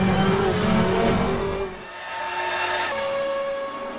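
Group 5 DRM race car in Assetto Corsa roars at high revs, a loud continuous engine note that drops briefly as it shifts and then climbs again, with some tire noise and no talk.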